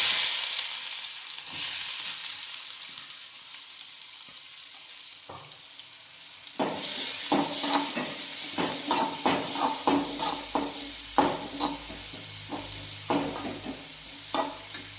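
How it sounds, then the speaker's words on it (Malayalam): Chopped onion for upma goes into a hot pan and starts to fry loudly. A spoon stirs it with repeated scraping knocks over a constant sizzle, and it is all close by. "ഒരു സവാള അരിഞ്ഞതാണ് അത് ഇട്ട് കൊടുക്കുന്നത്"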